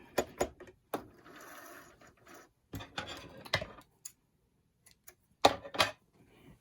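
Home sewing machine stitching a fabric face mask, with short bursts of rapid mechanical clatter separated by pauses and quieter handling sounds, fairly close and without talk.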